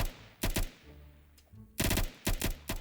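Gunfire in a Roblox Age Evolution Tycoon match, short bursts of rapid in-game shots arriving in clusters with brief quiet gaps between them.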